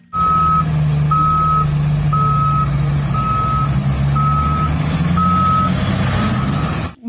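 Toy excavator sounding a steady run of regular electronic reversing beeps, about seven evenly spaced tones, loud and close over a continuous low motor hum.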